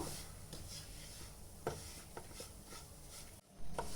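Wheat flour for a halkova sweet being stirred and sautéed in ghee: soft scraping and rubbing of a spoon through the thick mixture, steady and close, with a few sharper knocks, no talk.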